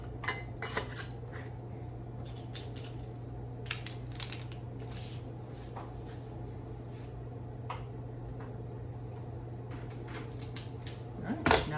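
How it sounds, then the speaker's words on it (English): Glass clinks and knocks as a wide-mouth quart jar of pickle spears is set into a home canner, scattered close taps and rattles over a steady low hum, with a louder clatter at the end. "this is the 7th wide mouth quart that I am putting in the canner"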